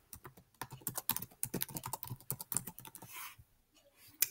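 Rapid, fairly close keystrokes on a computer keyboard tapping out an email forwarding rule, a dense irregular run of clicks that thins to a few scattered taps near the end; no voices.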